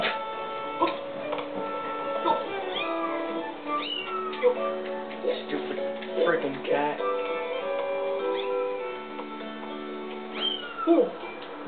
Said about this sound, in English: Freaking cat